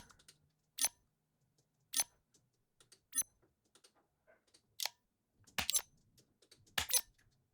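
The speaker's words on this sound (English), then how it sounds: "Now check out these keypad sounds." Sci-fi keypad clicks ring out as six or seven sharp, bright, isolated taps, spaced about a second apart, with the last few coming in a quicker cluster, each clean and close against silence.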